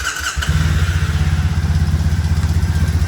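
A Triumph Bonneville motorcycle engine fires up after a battery replacement, catching quickly and settling into a steady, throbbing idle with a regular low pulse, close and loud.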